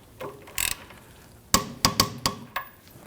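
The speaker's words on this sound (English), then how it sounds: "Torque down the lower nut on the sway bar end link to 44 foot-pounds." A torque wrench tightens the lower sway bar end link nut on a Volvo XC60's rear suspension, producing a few light mechanical clicks and a quick series of four or five sharp, close ratcheting snaps.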